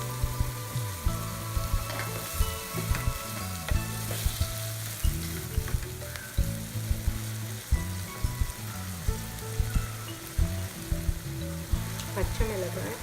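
Onion and tomato sizzle steadily while frying in a pan for paneer keema masala, with a dense crackling hiss and repeated scraping and stirring knocks throughout, close and continuous.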